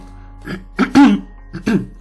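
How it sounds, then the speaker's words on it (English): A man clears his throat several times in quick succession, close and loud, with harsh rasping bursts separated by short pauses. "I had to clear my throat"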